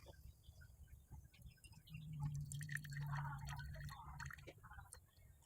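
Water trickles and drips faintly as fifty grams are poured into a rye sourdough starter, a soft, close pour that swells in the middle and tapers off.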